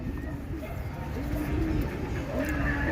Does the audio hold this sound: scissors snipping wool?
no